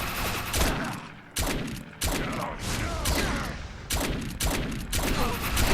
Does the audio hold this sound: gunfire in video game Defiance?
yes